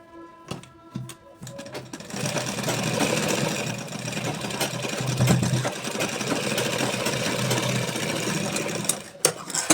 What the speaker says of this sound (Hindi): यहाँ भी हम डबल सिलाई लगा देंगे।